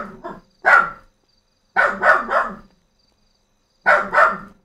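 A dog barks in several short bursts, single and doubled yaps separated by silent gaps, close and loud, with no talking over it.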